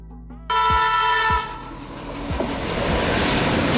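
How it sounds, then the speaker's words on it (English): A freight tanker train of tank cars sounds a loud sustained horn as it nears, then wheels thump over rail joints under a growing roar of passing wagons. "Tanker train."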